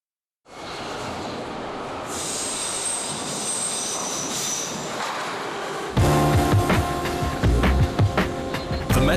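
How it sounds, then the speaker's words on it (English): A Moscow Metro underground train runs with a steady roaring rumble that swells, then turns louder and harsher with rattling, clanking wheel noise as it passes close by. "The metro is the most popular mode of public transportation in Moscow."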